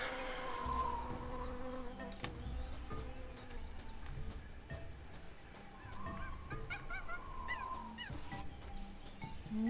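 Buzzing insects, bees among them, hum through a busy Tales of Monkey Island game scene, layered with honking fowl-like calls and scattered clicks at steady moderate loudness without talk.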